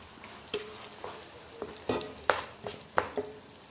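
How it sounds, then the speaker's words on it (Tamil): A ground paste with cumin and pepper fries in a pan for brinjal gravy, steadily sizzling while a spoon scrapes and taps the pan in irregular strokes, close and alone without voices. "நல்லா கிளறி விட்டுக்கலாம்."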